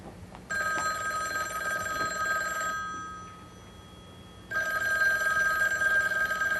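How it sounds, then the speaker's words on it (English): An old telephone bell rings loudly in two long bursts separated by a pause, with faint room hum beneath and no talk. "Aren't you going to answer it? It's your uncle's phone, not mine."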